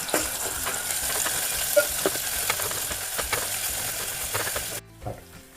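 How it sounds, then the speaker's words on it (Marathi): Garlic paste sizzles in hot oil with fried cumin, a dense crackling hiss broken by scattered pops and stirring clicks, heard close up; near the end the sizzle drops off sharply, as if the heat were cut or the pan moved. "आता त्यामध्ये मी लसणाची पेस्ट टाकलेली आहे।"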